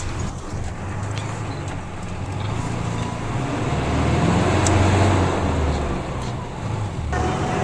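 Street traffic in Cusco, Peru, with public buses and cars passing nearby: a continuous rumbling engine and road roar that swells midway, with faint sounds of people in the background.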